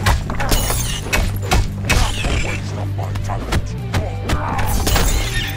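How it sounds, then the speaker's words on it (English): Crystal shattering and cracking in a fast-paced fighting game match, with repeated sharp crashes and breaking impacts scattered throughout over a busy layer of game effects and music. "The crystal crashing and cracking everywhere"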